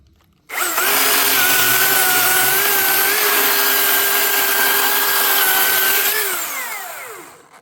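A Milwaukee M18 brushless cordless chainsaw whirs up sharply, holds a loud steady electric whine for several seconds, then winds down as the chain coasts to a stop.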